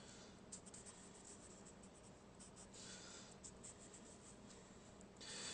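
Pen scratching steadily across a board while a Gaussian cylinder is drawn for a physics lesson on coaxial cables: a faint, continuous scratchy rubbing with small strokes, louder toward the end, over a hissy background, no talking.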